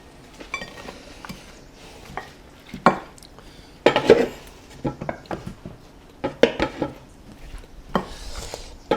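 Caesar salad tossed into a bowl in a messy home kitchen, with a series of close clinks, scrapes and dull knocks of utensils against the dish, irregular and moderately loud.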